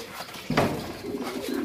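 Pigeons being kept for breeding coo softly, a low throaty murmur that begins about halfway through and rolls on in a steady, close burble with no talking over it.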